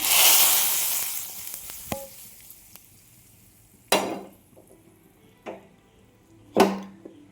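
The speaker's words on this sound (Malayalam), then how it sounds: "ഉള്ളി വഴണ്ട് വന്നിട്ടുണ്ട് നമുക്കിത് കറിയിലേക്ക് ഒഴിച്ചു കൊടുക്കാം" Fried onion seasoning poured into a Kerala egg ada curry gives a loud burst of sizzling that fades over about a second, followed by a few sharp metallic clinks from the utensils.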